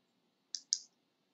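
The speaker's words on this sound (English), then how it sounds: "Let me just actually click on the training group itself" Two quick computer mouse clicks, close and crisp, about a fifth of a second apart, in an otherwise quiet room.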